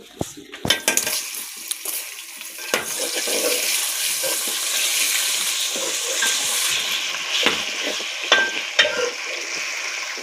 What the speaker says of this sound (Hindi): प्याज हमारे ब्राउन हो चुके हैं, अब जी इसमें ऐड करने लगी हूँ चिकन